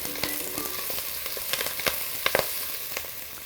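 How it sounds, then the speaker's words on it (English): Curry leaves and spices crackle and sizzle in hot oil in a pan for papaya thoran, with steady frying hiss broken by sharp spitting pops and a few clacks of stirring. "Let's stir this around."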